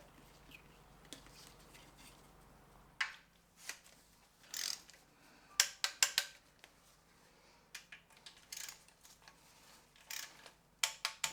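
A ratchet strap is cranked tight on a forklift differential in a workshop, with quiet metallic clicks and ratcheting bursts coming in irregular clusters between stretches of faint background hum.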